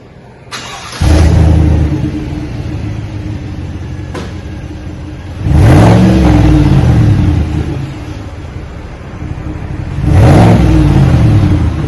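A 2021 Chevrolet Silverado fitted with a Flowmaster Super 44 muffler starts up and idles, then gets revved twice, each rev a loud, deep surge that falls back to a steady rumbling idle, recorded close to the exhaust with no talking.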